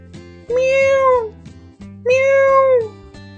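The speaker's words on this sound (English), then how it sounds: "Meow, meow, meow." Two clear, loud kitten meows, each a drawn-out, rising-then-falling cry about a second and a half apart, set over a steady, low musical backing.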